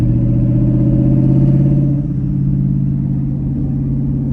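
Twin-turbo Coyote V8 in a Ford F150 at wide open throttle, a loud, steady close-up engine drone that eases slightly in pitch partway through as the pull carries on.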